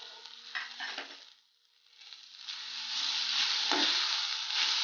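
Capsicum sautés in a hot pan for capsicum rice, with a steady loud sizzle broken by scraping stirs, dropping briefly before the frying hiss swells back up and holds.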